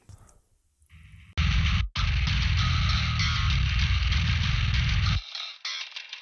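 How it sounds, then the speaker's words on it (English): A spank bass layer from a metal track cuts in sharply with a bright, aggressive attack and a loud, gritty low end, breaking off briefly for a split second and then stopping abruptly, leaving a quieter tail. "there's also happening this spank bass that I added"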